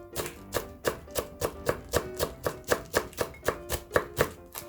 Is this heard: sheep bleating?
no